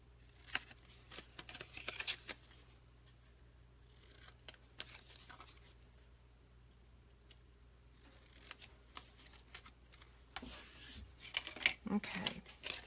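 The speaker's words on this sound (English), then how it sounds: "And now I'm just going to give these a teeny tiny trim." Scissors make small, quiet snips as they trim the tabs of a scored paper box, in scattered bursts with soft paper handling between them and a voice at times.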